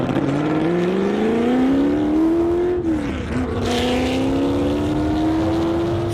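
A Ford GT40 replica racing car engine drones loudly as it climbs steadily in pitch, dips briefly when shifting gear, then pulls up again under hard acceleration.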